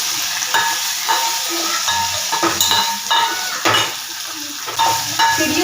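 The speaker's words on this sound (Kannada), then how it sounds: "ಈ ಥರ ಎಣ್ಣೆಲಿ ಫ್ರೈ ಮಾಡೋದ್ರಿಂದ ಸಖತ್ ಚೆನ್ನಾಗಿ ಬರುತ್ತೆ" Bajji pieces frying in hot oil crackle with a steady sizzle, broken by a few stirring scrapes and light clinks of a utensil against the pan, close up with no talking.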